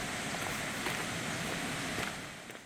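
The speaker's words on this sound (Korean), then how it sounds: "한가터를 지나면 계곡 물소리가 우렁차게 들리기 시작합니다." A valley stream near Hangateo on a Wonju trekking trail flows with a steady, even rush of water. The sound is fairly faint and continuous, with no voices.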